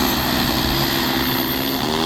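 An agricultural drone spraying pesticide over farm fields, its propellers giving a loud, steady, close whirring drone that holds without a break.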